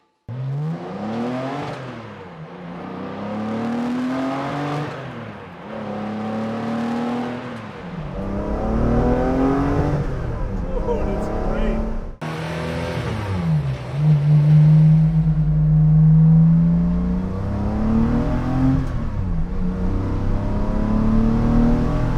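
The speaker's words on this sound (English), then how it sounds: "I finally took the training wheels off this thing, so we're ready to do some full throttle pulls" A Porsche hot rod engine revs hard in repeated full-throttle pulls, rising and falling sweeps that grow louder and deeper toward a sustained roaring climb, close and alone.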